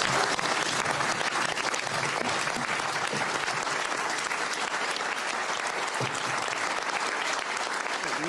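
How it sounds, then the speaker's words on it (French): Sustained applause from a group of deputies for the French politician Marine Le Pen, dense, steady clapping at close range with no voices standing out. "Marine Le Pen, applaudie par Jordan Bardella et les députés"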